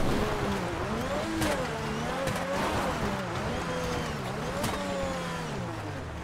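Engine of a classic 1946–47 car in GTA FiveM revs and rises and falls in pitch continuously, with several sharp transients, steady and fairly loud throughout.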